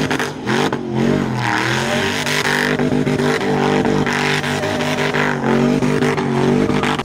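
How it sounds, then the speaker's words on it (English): A supercharged V8 engine fitted in a 600 hp Mini Cooper burnout car revs hard and loud, surging and dipping in pitch through repeated throttle blips with a constant roaring rasp close by. "It probably makes about 600 horsepower."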